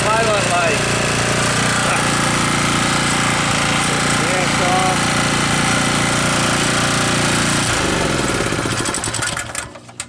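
An abandoned 2KW generator engine running steadily with a rough, loud mechanical drone, near and constant, then faltering and dying away at the end as the carburetor runs out of fuel.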